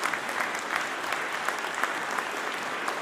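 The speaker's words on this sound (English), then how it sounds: "Yes, give that a round of applause" A crowd claps steadily at a Philadelphia mayoral announcement naming a new police commissioner, a dense, even wash of applause filling the space without a break, with no voices standing out.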